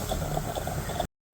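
Water boils up through a stovetop coffee decoction maker, a soft bubbling gurgle and hiss lasting about a second before cutting to silence.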